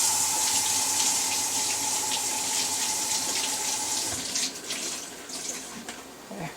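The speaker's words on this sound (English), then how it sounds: "I just get it wet with really hot water." A kitchen tap pours really hot water over a rag while plums are preserved, a loud, steady hissing stream that changes near the end into irregular splashing as the cloth is held under it.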